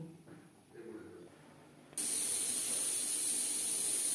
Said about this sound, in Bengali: চার পাঁচটা সিটি দিয়ে নিয়েছি